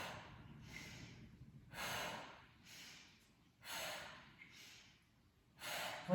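Quiet, slow exhalations during a standing toning exercise, roughly every two seconds. The soft, breathy puffs are close to the microphone and alternate with fainter inhales.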